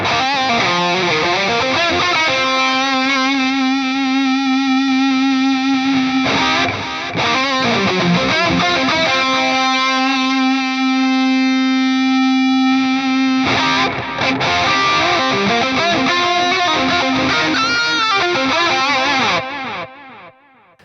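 A distorted electric guitar plays through an Atomic Amplifire with a dotted-eighth delay. Sustained notes and chords ring out, and each phrase is followed by rhythmic repeating echoes, played alone and loud for about twenty seconds.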